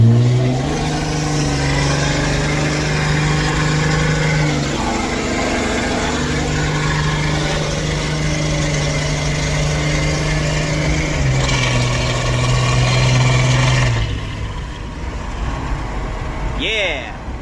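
A Cummins diesel truck with an 8-inch axle dump exhaust driving, giving a deep, steady drone with a low tone that shifts as it moves, under close voices talking for most of the stretch.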